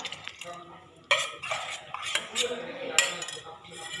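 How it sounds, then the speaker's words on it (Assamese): A spoon clinks and scrapes inside a pot as powdered milk is mixed with a little water for payasam, giving irregular metallic stirring strokes with a few sharp clanks. "এইখিনি লৈছোঁ মই পাউডাৰ গাখীৰ এইখিনি ধুনীয়াকৈ মিহলাই ল'ম"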